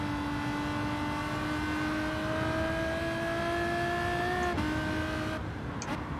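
A race car engine in a video game at the Nürburgring drones at a sustained high pitch, rising slightly before a quick shift drop, loud and constant with no talking.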